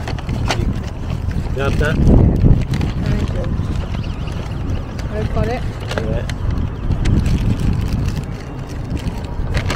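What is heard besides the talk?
wind blowing into microphone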